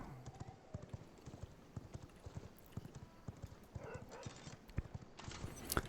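Horse hooves clip-clopping in the video game V Rising, a steady rapid rhythm of sharp hoof strikes throughout, with a few louder effects near the end.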